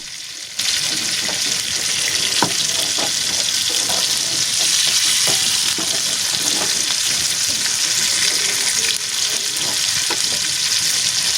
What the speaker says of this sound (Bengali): আমার মাছগুলো এক পিঠ ঠিক মতন ভাজা হয়ে গেছে, এখন অন্য পিঠ ঠিক মতন ভেজে নিতেছি